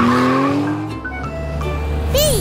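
Cartoon race car driving fast with a tire squeal: a loud engine revving and shifting pitch, ending in a rising skid squeal, heard close.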